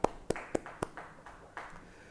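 Scattered hand claps at a Christmas church service, a few sharp separate claps fairly close and quiet, fading into softer sparse clapping rather than a full round of applause.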